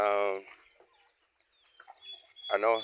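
Chickens cluck on a small mini farm, with one loud, close throaty call at the start and another at the end, separated by quiet scratching and faint clucks in between.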